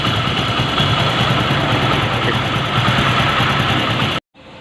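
A car engine idles steadily after an engine noise fault has been repaired, a close, even rumble with a light rhythmic knock, running alone for about four seconds before cutting out abruptly.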